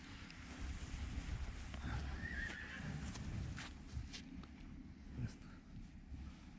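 A horse whinnies amid steady outdoor noise in Ukraine, with soft shuffling hooves of heavy draft horses and wind rumbling through the clip.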